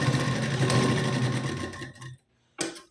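A sewing machine runs steadily while stitching a blouse seam with a half-inch margin, a dense continuous whir that stops briefly near the end, then starts again in a short burst.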